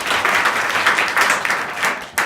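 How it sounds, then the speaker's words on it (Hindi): Students in a junior high school classroom break into steady applause, a dense, continuous patter of many hands clapping together for about two seconds, fairly loud and close, with no talking over it. "जानते हैं के लिए जोरदार ताली बजाएं।"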